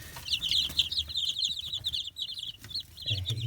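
Chickens cluck softly and continuously in a backyard coop, among them a rooster with missing, regrowing feathers, heard at moderate distance over a low background rumble.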